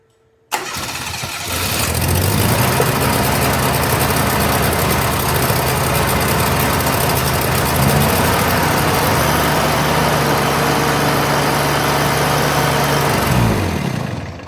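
Kubota gas engine on a Steiner 230 tractor cranks and catches, then runs steadily at a loud, close, even idle for over ten seconds before cutting out near the end.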